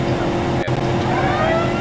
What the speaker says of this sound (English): She'll get up over 100 with this engine. It's a big engine.